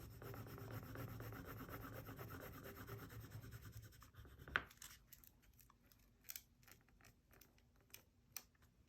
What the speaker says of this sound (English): I can just rub back over it to get the image to transfer